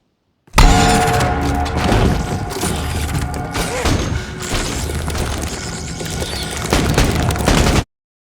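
A loud explosion blasts through part of a church wall in a monster film. It is a heavy, sustained boom with rumbling and crackling debris for about seven seconds, then it cuts off abruptly.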